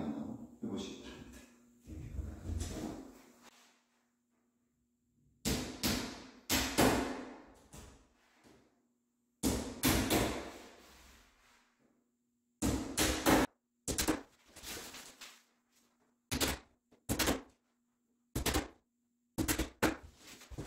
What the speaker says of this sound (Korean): 잠깐 가구 조립하는 남자가 망치질 하는 모습 구경 한번 해보시기 바랍니다.